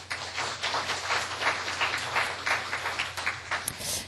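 An audience at a software licensing conference claps together in a hall, a dense rippling patter of many hands that rises and falls over a few seconds without any voices.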